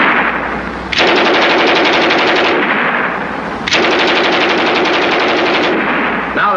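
A German MG 34 machine gun from the Second World War, on display at a Battle of the Bulge museum in Belgium, lets off two long, loud bursts of rapid, chattering fire with a short gap between them and no talk.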